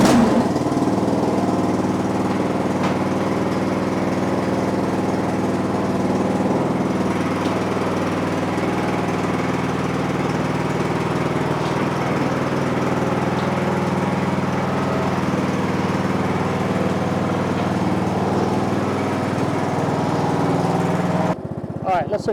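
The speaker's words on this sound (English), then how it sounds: "All right, let's engage the mower." A lawn mower's small engine runs at a steady, loud drone close by, holding an even pitch throughout before cutting off abruptly near the end.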